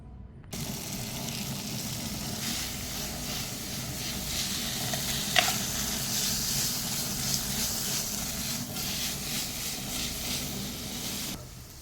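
Paneer cubes roast in a couple of spoons of oil in a pan, a steady close sizzle with a brief sharp crackle midway, running evenly for about eleven seconds before cutting off.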